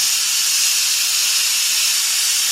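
A pressure cooker vents steam in a loud, continuous high hiss that holds steady without a break, heard close.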